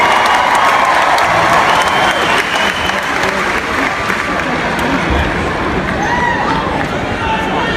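A crowd at a band performance breaks into loud, sustained applause, with dense clapping and some cheering filling the space evenly for several seconds.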